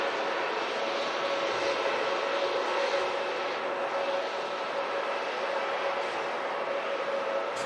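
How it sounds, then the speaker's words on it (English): Turkish Airlines Airbus A321neo passing at Manchester Airport, a steady, broad jet roar holding at a near-constant level throughout with a faint tonal whine running under it, no voices. "Turkish Airlines just going past in front. Let's have a quick listen in. A321neo for Istanbul."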